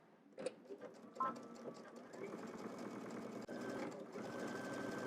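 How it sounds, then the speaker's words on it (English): A sewing machine stitches along a crease in fabric at close range. A couple of short bursts start it, then the motor runs in a steady, continuous whir to the end, with faint voices early on. "now let's head to the machine. So let's stitch right where that crease is"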